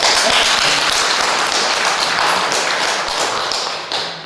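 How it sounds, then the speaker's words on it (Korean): A church audience gives a round of applause, dense continuous clapping from many hands, loud and close, fading slightly toward the end. "박수 한번 치시죠"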